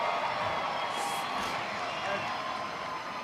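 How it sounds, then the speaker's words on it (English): A large outdoor crowd at the Rose Bowl cheers and applauds after Bello Nock's high-wire walk, a steady dense roar with whoops rising briefly, mixed with talk throughout. "Let's get the crowd to cheer for what you guys just saw tonight."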